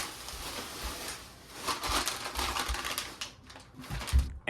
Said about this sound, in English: we will be taking off the wrapping paper